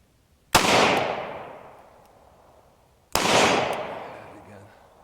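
Two loud, sharp shots from an S&W 342PD revolver are fired a few seconds apart outdoors, and each crack is followed by a long, fading echo.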